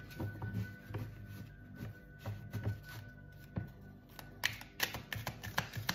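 Oracle cards shuffled by hand, a soft run of riffling, slapping taps and shuffling rustles close up, uneven in rhythm, with no talk.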